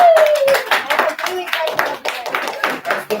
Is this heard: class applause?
yes